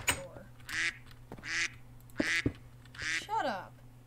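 Repeated duck quacks from a Minecraft OreSpawn game, five or so nasal calls spaced about a second apart over a low steady game hum, with a brief descending squawk near the end.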